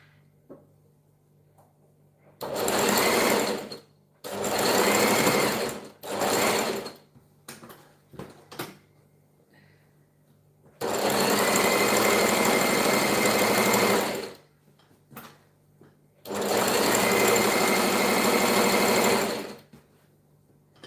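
A sewing machine stitches fabric in loud, close bursts of about one to three seconds, separated by short quiet pauses with a faint background hum.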